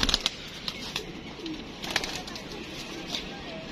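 Pigeons kept by a fancier stir nearby with soft cooing under the steady hum, and quick flutters and sharp wing claps pop out at intervals.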